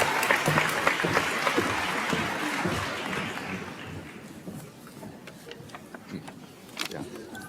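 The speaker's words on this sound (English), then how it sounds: "Also give a big applause and congratulations" Audience applause at a university commencement ceremony, loud at first and thinning out gradually into scattered claps and faint background noise.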